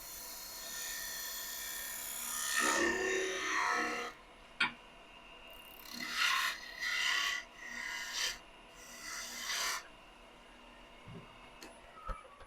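A lathe tool cuts a V groove into a spinning wooden spurtle blank, giving several whining, scraping bursts of varying length that are separated by quiet gaps, with a low motor hum underneath.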